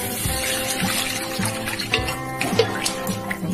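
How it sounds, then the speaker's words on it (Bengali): Hot water is poured into a cooking pot of rui fish kalia with ridge gourd and potato, a splashing, trickling pour heard close up with faint talk in the background. "এই যে গরম জলটা দিয়েছি"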